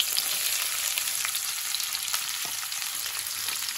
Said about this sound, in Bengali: দিয়ে দিলাম এর মধ্যে আমি পেঁয়াজ কুচি